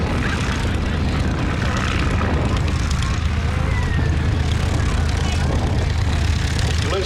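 A light wooden aircraft flying at the Little Gransden air display, its engine giving a steady, continuous broadband drone that holds level throughout with no clear pauses.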